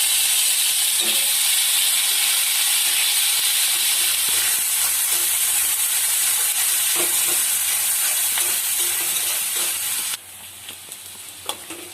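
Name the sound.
chopped onions frying in oil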